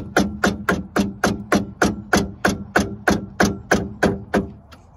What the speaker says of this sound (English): I take the side of my hammer and I gently tap the wheel on